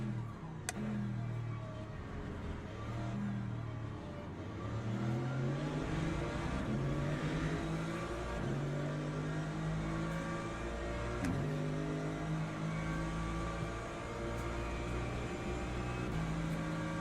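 A racing car engine in a video game holds a steady, droning note, rising and falling through repeated gear-change sweeps. The player's BMW sits behind. The sound is loud, close and continuous, with no talking over it.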